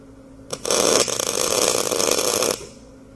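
Welding during the mounting of a Farmhand grapple on a Gehl 4510 skid steer: a short tap, then about two seconds of steady loud crackling hiss that stops abruptly, close by over a quiet background.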